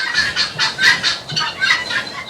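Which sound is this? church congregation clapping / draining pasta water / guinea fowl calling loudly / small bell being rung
guinea fowl calling loudly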